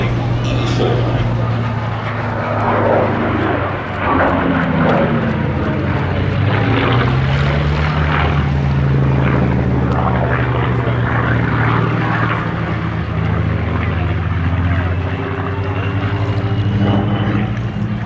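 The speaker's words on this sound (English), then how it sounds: "The sequence Wolfgang Landschutz's Messerschmitt BF 109 E4." Messerschmitt Bf 109 E4 warbird at a UK airshow, its piston engine droning loudly and continuously with a shifting pitch as it flies past, under steady commentator-style talk.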